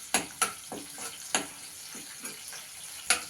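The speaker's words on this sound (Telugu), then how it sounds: "ఇప్పుడు సన్నగా కట్ చేసిన గార్లిక్, మిర్చి వేసుకోవాలి. ఇవి ఫ్రై చేసుకోవాలి." Thinly cut garlic and chillies fry in oil in a kadai, a soft crackle broken by several sharp, irregular clinks of stirring, close and fairly quiet, with no voices.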